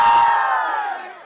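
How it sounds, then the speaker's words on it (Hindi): A crowd of girls hooting and cheering on a train, a loud high-pitched collective shout that holds briefly and then fades away. "बेचारी लड़कियों ने हूटिंग कर करके मेरी तो जिंदगी"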